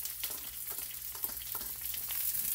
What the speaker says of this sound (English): So I'm going to start the red onions